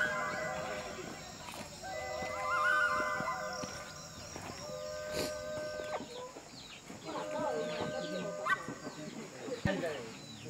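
A hen clucks and cackles in a rural community setting before being butchered, with repeated calls over background murmuring voices and other farm animal noises, fairly faint and distant.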